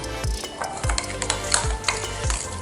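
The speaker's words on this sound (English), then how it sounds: "I'm going to put a bit of sugar, 2 teaspoons of sugar, 1 teaspoon of vanilla, and I'm going to mix it very well." Spoon stirring sugar and vanilla together in a bowl, a steady rhythm of scraping strokes with soft clinks roughly every third of a second, close and alone with no talk.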